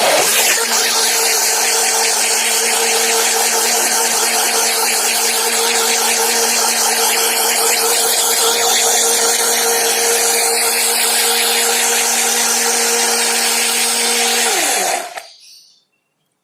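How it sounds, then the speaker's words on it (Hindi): Electric grinder blending soaked dosa batter, a loud steady motor whine with a churning, whirring texture that runs continuously before winding down and stopping near the end. "तो ये हो गए हैं ग्राइंड, और अब ग्राइंडर का काम हो गया है ख़त्म"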